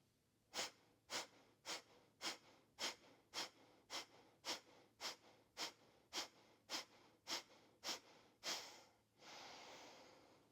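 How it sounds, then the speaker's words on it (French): Forceful Kapalabhati yoga exhalations come as about sixteen sharp, evenly spaced puffs through the nose, close and steady, followed by one long, slower breath out. "Et à nouveau, Kapalabhati."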